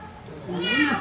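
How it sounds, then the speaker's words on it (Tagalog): A cat gives a short, rising meow close by, lasting under a second and growing louder toward its end, at night in a home. "Maraming pusa na yun."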